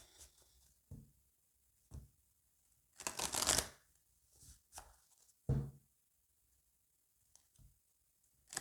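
Oracle cards are shuffled before a draw, in several separate bursts of riffling and soft taps, close and fairly quiet, with pauses of near silence between them.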